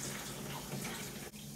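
Water running steadily from a tap to give a puppy a bath, a continuous close rushing stream with a brief dip near the end.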